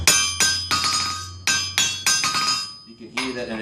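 A hammer strikes a blacksmith's anvil about seven times in an uneven rhythm, each hit giving a loud, bright, high-pitched ring that decays quickly, followed by a lower metallic clank at the end.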